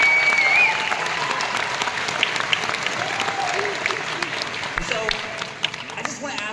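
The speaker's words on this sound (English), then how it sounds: "I just want to give a huge round of applause" A crowd claps for the creators at a Saturday-morning card party gathering, the applause loud and fairly steady at first before thinning and fading out.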